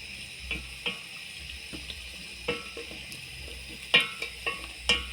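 Arrowroot and meat stew with carrots being stirred in a pot, soft bubbling and faint sizzle punctuated by intermittent scraping and clinking spoon strokes, close and fairly quiet.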